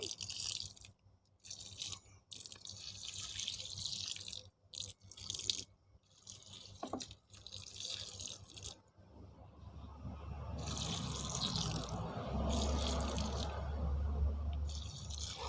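Jaggery and curd solution poured slowly onto a heap of kitchen and garden waste compost, giving a steady close liquid trickle and splash with some crunchy, dripping texture that builds toward the end.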